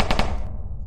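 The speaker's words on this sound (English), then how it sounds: "Oh, the pistol works." A pistol fires in the People Playground physics video game, two quick sharp loud shots in rapid succession, followed by a short decaying tail and then abrupt quiet.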